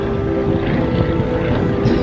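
A rare metal parasol-wing aircraft flies at the Habsheim airshow, its steady propeller engine drone loud and continuous with a constant low hum and some wind noise.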